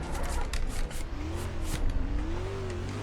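A NASCAR race car in NASCAR Racing 2003 at Montreal roars steadily, its engine note rising and wavering through a missed rev-match downshift, loud and continuous with a faint tire squeal.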